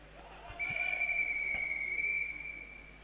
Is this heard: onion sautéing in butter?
no